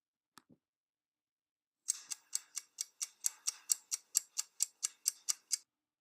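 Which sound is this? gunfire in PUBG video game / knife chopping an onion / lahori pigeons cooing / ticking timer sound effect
ticking timer sound effect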